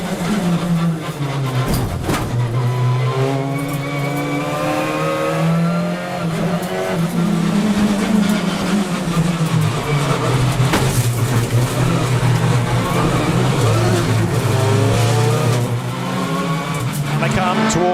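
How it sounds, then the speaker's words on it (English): BTCC touring race cars at Thruxton approaching Lodge Corner, a continuous loud roar of several engines revving and shifting as they pass, with a commentator talking over the racing throughout. "they come towards Lodge Corner, and Aaron Taylor-Smith, the race leader"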